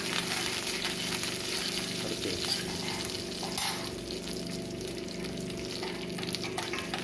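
Mustard seeds, curry leaves and spices crackle and sizzle steadily in hot oil in a pan, a dense continuous frying hiss close to the pan with occasional faint stirring.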